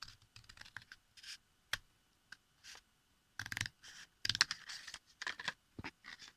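A cardboard tube being cut along a marked line, heard as faint, scattered snips and clicks in short bursts separated by quiet gaps, with no talking.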